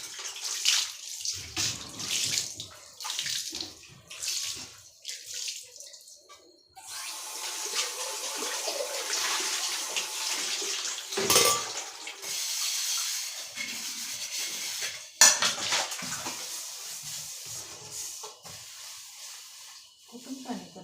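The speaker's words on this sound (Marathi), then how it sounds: "किती पाणी पडायला लागले बापरे" Water pouring and splashing during household cleaning, a rushing, gushing stream that swells in the middle and comes and goes around talk, with pigeons cooing faintly nearby.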